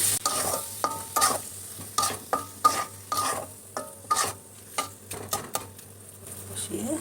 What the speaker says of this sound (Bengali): এখন ডিমগুলো দিয়ে দেবো। ডিম দিয়ে মশলাটা একটু কষিয়ে